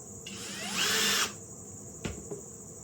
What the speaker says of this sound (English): you want to drill holes on the sides